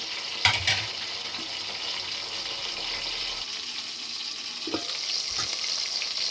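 Spices and ingredients sizzle and fry steadily in a pan for a spicy Rayalaseema fish curry, a continuous close hiss with a few brief stirring clatters and no talk.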